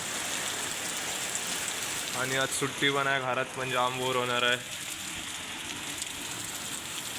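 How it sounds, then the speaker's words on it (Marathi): Heavy rain pours down in a constant, dense roar while someone speaks briefly over it near the middle. "काही पाऊस बघा तुम्ही जाम म्हणजे जाम पडते"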